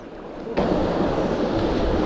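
Rushing river waves at a wakeboard surfing spot on the Traun in Bad Ischl, Austria: a broad, continuous wash of churning water that swells suddenly near the start and stays loud and close, with wind-like roar and no talk.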